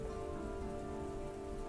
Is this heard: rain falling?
yes